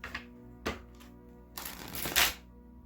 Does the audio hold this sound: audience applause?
no